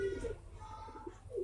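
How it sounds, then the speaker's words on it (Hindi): Pigeons, Punjabi flying birds being released from a rooftop loft, give a few low soft coos near the start and end, fairly close, over a faint steady background hum. "और एक ये है कबूतर, इसको मैं उतार रहा हूँ"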